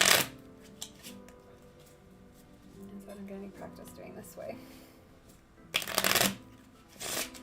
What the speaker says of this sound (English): I can't shuffle the tarot cards like that.